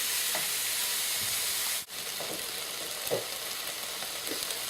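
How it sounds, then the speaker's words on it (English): Onions sautéing in a pan over medium heat for French onion soup, a steady broadband sizzle with a brief dropout partway through, and soft stirring scrapes that rise here and there above the constant frying hiss. "The onions have just been sauteing, still on medium heat."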